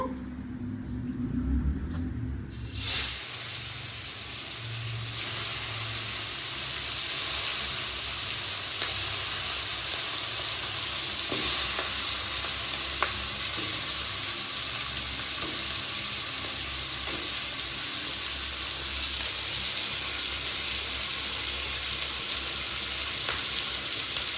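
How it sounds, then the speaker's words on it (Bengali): Fresh river lithe fish coated in spices sizzles steadily in hot oil, a loud, continuous frying hiss that swells suddenly after a brief quieter start and runs unbroken, with no talk. "মাছটা ভালো মতো কষিয়ে নেব।"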